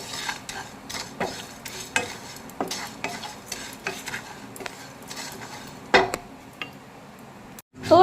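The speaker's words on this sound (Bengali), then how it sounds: "তাতে দিয়ে দিচ্ছি সমস্ত গোটা মশলা, এগুলোর একটা ড্রাই রোস্ট করে নেব" Whole spices dry roasting in a small wok, with a utensil stirring and scraping them in steady, uneven scratches and light metallic clinks, close and alone without oil sizzle.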